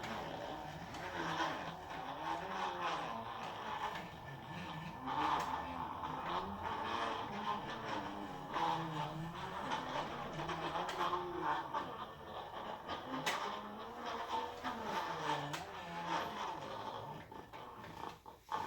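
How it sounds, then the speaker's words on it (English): Stepper motors on a radio-controlled self-balancing robot whine and growl continuously, their pitch rising and falling as the robot turns and shifts direction, fairly close with steady intensity throughout. "it actually uses stepper motors rather than DC motors"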